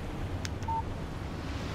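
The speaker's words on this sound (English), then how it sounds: "Text message from Barry." A brief electronic phone alert tone sounds for a text message in the video game Alan Wake, a short single beep over steady wind-like ambience.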